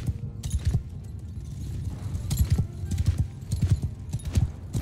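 Horses gallop in a Mount & Blade 2: Bannerlord battle, their hooves thudding in a loud, rapid, uneven rhythm with a brief whinny amid faint battlefield noise.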